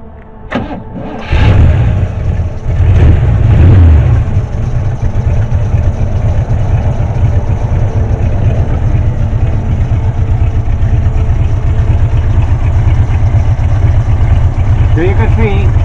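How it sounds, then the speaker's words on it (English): A 1969 GMC truck engine cranks and catches at about one second, then settles into a steady, loud, rumbling idle that runs to the end, with a voice speaking faintly underneath. "I'll go ahead and I'll start it for you so you can hear the motor start"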